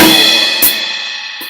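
Rock drum beat played on a kit, a loud cymbal wash ringing over the top with a sharp hit near the middle and another at the end, stick strokes steady underneath.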